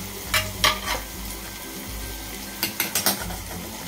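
Onion and tomato steam and fry in a pan under a lid, with a steady low sizzle and a cluster of soft stirring and utensil knocks near the start and again toward the end.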